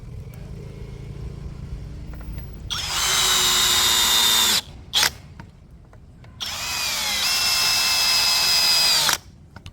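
A Dongcheng cordless brushless impact drill driving screws whirs in two sustained bursts, with a brief blip between them, over a low background rumble.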